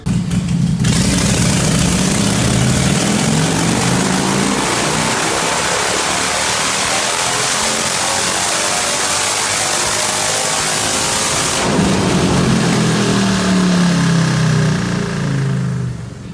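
A supercharged Harley-Davidson Breakout 117 motorcycle engine with a grafted exhaust roars loudly and continuously nearby, its pitch rising and falling as it revs.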